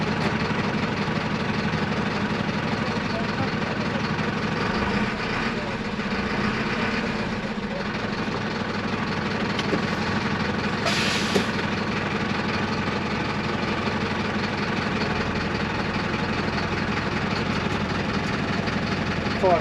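A Mercedes Vario truck's engine idles steadily with a low diesel rumble and slight knock while the clutch is pumped, the drone continuous and unchanging throughout.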